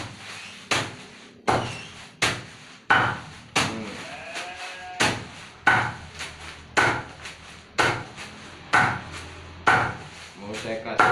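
Grass is chopped by hand as sheep fodder, a chopping blade striking a wooden block in a steady run of sharp tok-tak knocks, roughly one or two per second, close and loud with no talking.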